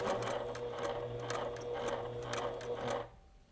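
A sewing machine stitches binding onto a quilt made from fabric scraps, running in a steady close whirring rhythm for about three seconds before stopping abruptly.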